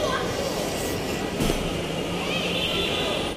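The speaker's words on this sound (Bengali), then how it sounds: "তো এই ফাইনালি ট্রেন চলে আসছে" A Dhaka Metro Rail train pulling into a station, a continuous loud rumble and whine of the arriving cars with broad station noise and murmuring crowd around it.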